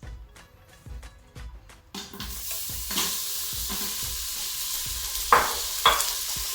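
Onions dropped into hot oil in an Instant Pot on sauté mode for chicken dum biryani: a few spoon taps, then a sudden burst of loud sizzling that continues steadily, with two sharp scraping clinks of stirring near the end.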